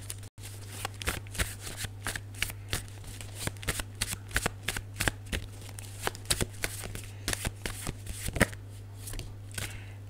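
Tarot cards are shuffled by hand in quick, crisp bursts of riffling and slapping, a rapid uneven patter of close clicks over a steady low hum, without speech.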